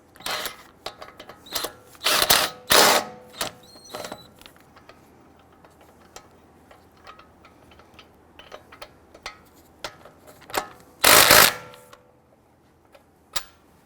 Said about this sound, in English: I'm going to go ahead and get all the lug nuts started